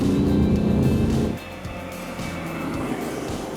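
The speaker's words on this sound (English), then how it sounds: "It's not so much a diesel clatter, but more a roar, and especially when you push the engine hard." A Tata Tiago three-cylinder diesel engine roars loudly under hard acceleration, then drops abruptly to a quieter, steady hum as the revs fall away.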